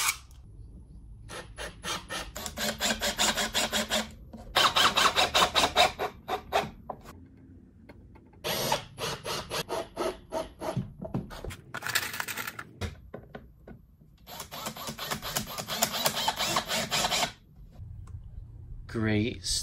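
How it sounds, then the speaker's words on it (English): Repeated bursts of rough, rhythmic scraping as wood is sanded by hand, strokes coming in runs separated by brief pauses, close and fairly loud. "Just sanding some wood."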